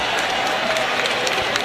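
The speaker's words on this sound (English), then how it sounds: "The crowd showing their approval and their appreciation." Crowd applause at a boxing event, a steady dense wash of clapping and murmur filling the short stretch at constant loudness, with no clear voice on top.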